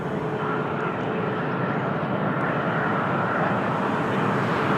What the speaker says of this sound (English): Lufthansa with the Star Alliance livery on short final